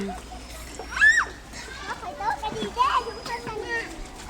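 Children play and shout at an outdoor water park while splashes and sloshing water sound nearby. Excited young voices rise and fall over the busy background.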